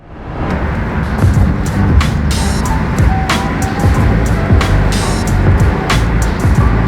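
A 2019 Ford Mustang Shelby GT350R cruises along a California beach road, its engine and tire noise a constant loud rumble with wind buffeting and occasional sharp bursts on top.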